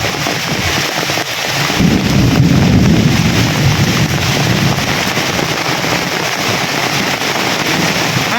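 Thunder rumbling during a sudden daytime storm, a deep, rolling boom swelling after the first second and fading slowly over several seconds, set against a steady background of wind and rain noise.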